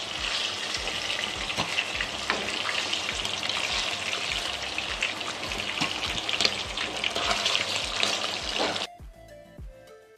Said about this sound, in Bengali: একটু হালকা হাতে ভেজে নিচ্ছি